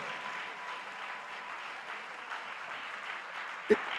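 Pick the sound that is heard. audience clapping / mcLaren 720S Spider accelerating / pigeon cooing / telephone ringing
audience clapping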